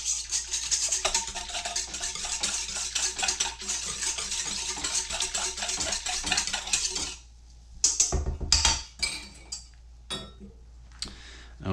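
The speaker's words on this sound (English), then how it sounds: "Then I'm going to whisk together the sugar, yeast," A whisk scrapes and clinks quickly around a bowl, stirring sugar, yeast and milk together for about seven seconds. A few scattered taps and knocks follow.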